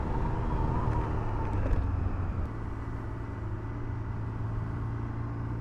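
Triumph Street 765 RS and Speed 1200 RS motorcycles ride on a first outing, giving a steady low engine drone and rumble that eases slightly partway through.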